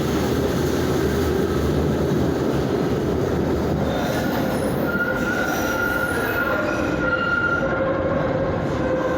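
A SEPTA Route 10 trolley at underground 13th Street Station rumbles loudly and continuously, with metal wheels squealing against the rails in a sustained, shrill screech.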